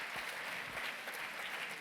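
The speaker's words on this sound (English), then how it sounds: "One more round of applause for our great panel." An audience at a history forum applauds a panel, a dense, steady wash of clapping from many hands filling the room without pause.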